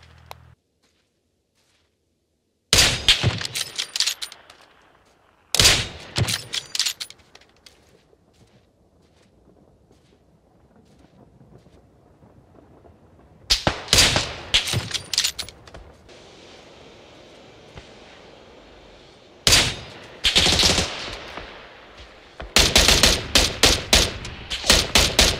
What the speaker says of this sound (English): How are these shots missing you?